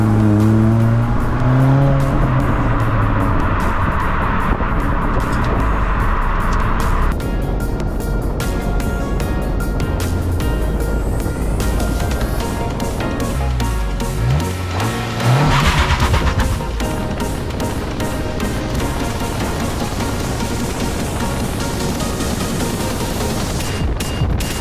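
A 2022 Honda Civic Si with a manual gearbox drives and accelerates, its engine revving up through rising pitches with breaks for gear changes and a loud, continuous drone from start to finish.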